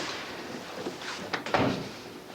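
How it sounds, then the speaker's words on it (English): Office door being shut, a short bump and latch click near the end after faint room shuffling, close and moderately loud. "Close the door behind you."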